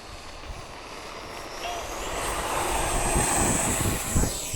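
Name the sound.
radio-controlled pattern model airplane flying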